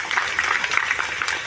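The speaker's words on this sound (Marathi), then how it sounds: "त्यांना त्यांच्यासाठी टाळ्या वाजवा जोरात." Crowd applause at a large Nationalist Congress Party (Ajit Pawar group) political rally in Murbad, a dense steady clatter of many hands clapping throughout, loud and continuous with no talk over it.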